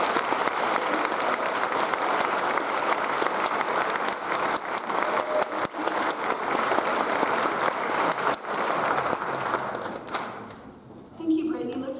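An audience at a university psychology and neuroscience winter recognition ceremony claps in a long, dense round of applause that thins out near the end, with a voice starting to speak as it fades.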